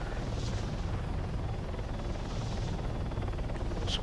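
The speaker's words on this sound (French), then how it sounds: "On est dans un hélicoptère. Un hélicoptère." Helicopter in flight inside the Arma 3 video game, a steady loud rotor and engine roar filling the whole stretch with continuous broadband rumble and no talk over it.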